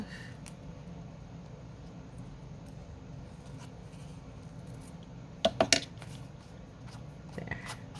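Paper is trimmed with scissors in a quick cluster of three or four crisp snips that stand above a low, steady background hum in an otherwise quiet room.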